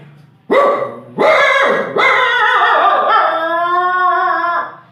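A man imitates a dog's howl, a mimicry performer's voice rising into three loud, close, drawn-out wailing howls in quick succession with no other talk.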